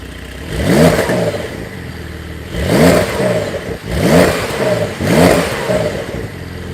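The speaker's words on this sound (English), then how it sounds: "You're revving, so it can't get too loud, but it does have a sports exhaust" A 2022 Porsche 911 Targa 4 GTS engine with sports exhaust revs hard four times in a row, limited to 3,500 RPM, each burst rising in pitch and dropping back to a rumbling idle between them.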